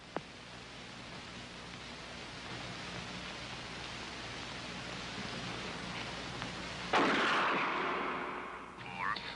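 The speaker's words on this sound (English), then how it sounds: "Shoot Bobby, Raymond. Through the forehead" A gunshot in a dramatized film scene about hypnosis and mind control: one loud, sharp blast at about seven seconds that rings and decays over a constant background hiss, with a faint click near the start.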